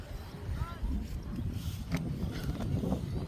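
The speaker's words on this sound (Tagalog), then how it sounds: "So lakas ng hangin natin ngayon guys." Strong wind buffets the microphone in a deep, constant rumble while flying a Vietnam kite, with a voice speaking faintly underneath.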